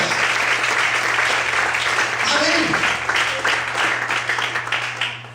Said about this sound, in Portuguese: Será que você pode aplaudir a Senhor por isso?